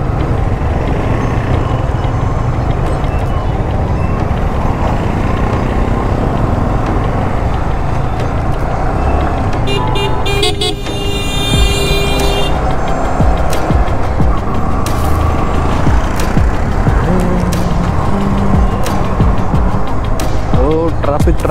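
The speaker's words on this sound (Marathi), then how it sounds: "ट्रैफिक आज नुसता ट्रैफिक है।" Busy night road traffic heard during a ride on a 2025 Royal Enfield Classic 350, a constant loud wash of engines and passing cars and trucks with a brief horn blast, and people talking over it.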